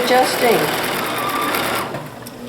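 A sewing machine runs in a quick, steady whirring burst while stitching a pleated blouse, close and loud before tapering off near the end.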